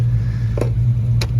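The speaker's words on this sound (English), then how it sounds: "Homeboy's got a really nice Challenger over there. That's what you hear idling." A Dodge Challenger idles nearby with a steady low engine hum, loud and even, with a couple of brief clicks over it and no talking.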